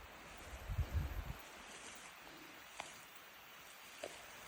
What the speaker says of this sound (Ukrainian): шумом річки.